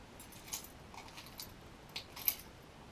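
Keys jangling on a keyring carried for a first aid kit, a few faint, brief metallic clinks scattered across quiet background.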